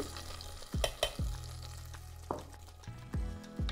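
A spoon scrapes and stirs ghee-fried cashews into a pot of moong dal payasa. Several distinct strokes and clinks sound close up over a soft bubbling background, with no talking.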